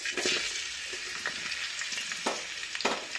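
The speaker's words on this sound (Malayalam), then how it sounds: "ചൂടായ എണ്ണയിലേക്ക് ഉള്ളി, പച്ചമുളക് ഇട്ട് കൊടുക്കുന്നുണ്ട്" Onion and green chili sizzle in hot oil in a pan, making a steady loud crackling fry with a few sharper pops and stirring bursts throughout.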